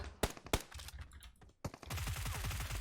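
Gunfire in PUBG Mobile: two sharp separate shots, a short pause, then a rapid automatic burst with evenly spaced pops that runs to the end, loud and with no talking.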